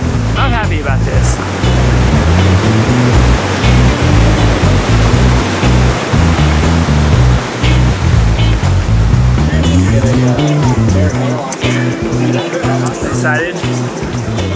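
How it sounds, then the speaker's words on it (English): Big ocean waves breaking on the beach at Da Nang, Vietnam, where people are surfing; a loud, steady wash of surf with continuous roaring noise throughout, heard alone without talk. "there's some legit big waves out there and there's people surfing too"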